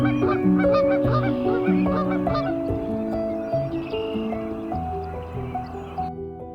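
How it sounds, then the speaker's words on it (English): Swans on a lake honking repeatedly in overlapping, trumpeting calls, loud and close, several birds calling over one another with no speech. "no bird exudes dignity quite like a swan"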